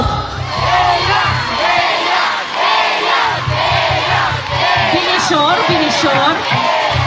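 A concert crowd in Făgăraș shouts the singer's name in a loud, sustained, rhythmic chant that swells and dips, with a voice rising above the roar.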